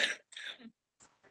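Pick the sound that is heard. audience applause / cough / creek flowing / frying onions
cough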